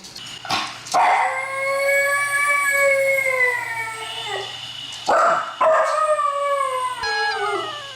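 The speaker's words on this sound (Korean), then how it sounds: "보호자가 없는 걸 확인하자 하울링을 시작하는데요." A dog left alone at home while its owner is at work howls in long, rising and falling wails, two drawn-out howls close by with short yips between them.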